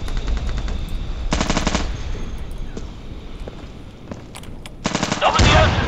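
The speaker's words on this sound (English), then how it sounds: "Machine gun laying down right there." Machine gun fire in the video game Insurgency, loud rapid bursts of automatic shots with a steady rumble of battle between them and a heavier volley near the end.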